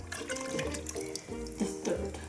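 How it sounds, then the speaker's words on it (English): Milk pours from a jug into a pan of lasagne sauce, a close, soft liquid gurgle and splash that runs continuously with slight surges in flow. "let's add the milk."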